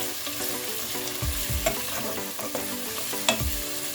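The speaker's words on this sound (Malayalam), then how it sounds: "ഇത് എണ്ണയ്ക്കകത്ത് വഴറ്റുമ്പോൾ ആ പച്ചമണം ഒന്ന് മാറിക്കിട്ടും. നല്ലവണ്ണം ഒന്ന് വഴറ്റിയെടുക്കുക." Drumstick and tomato sautéing in oil for a Kerala tomato drumstick curry, a constant bright sizzle with repeated clattering stirs of a spoon against the pan and a few low knocks, close up and without talk.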